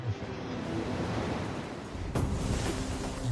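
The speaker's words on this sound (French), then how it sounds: "Les vents créent des vagues." Wind-driven ocean waves make a continuous broadband wash of surf and blowing air, steady and fairly loud, with a slightly stronger surge near the end and no voices.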